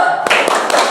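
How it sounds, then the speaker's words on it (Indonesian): A class of schoolchildren claps hands together in a short rhythmic pattern led by their teacher, a few sharp, loud, closely spaced claps in a classroom with voices mixed in. "kita tepuk semangat dulu ya. 3 kali. Tepuk semangat."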